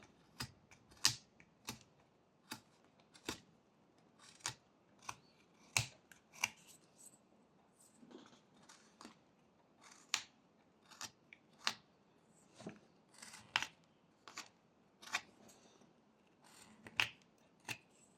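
Knife cuts whittle a small wooden bear's head, a steady series of crisp, close snicks and scrapes, each cut a short sharp click separated by quiet pauses.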